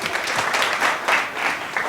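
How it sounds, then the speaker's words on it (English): Audience applause greets an ADJ Inno Roll LED lighting fixture during a live product show, with steady, dense clapping from a nearby crowd sustained throughout. "Wow, that light got more applause than I did."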